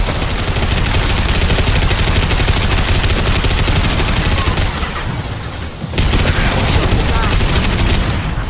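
Mass Effect 2 combat gunfire: sustained loud automatic bursts and impacts pour out almost nonstop, with a brief dip before resuming, while voices talk underneath.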